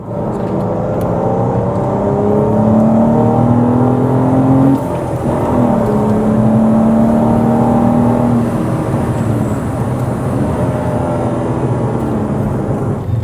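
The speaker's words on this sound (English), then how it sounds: "The sound insulation, you can hear the exhaust." BMW M2 exhaust and engine revving steadily while driving on a gravel-chipped road, a loud continuous drone with rising and falling harmonics as the revs climb, dip near the middle, then climb again.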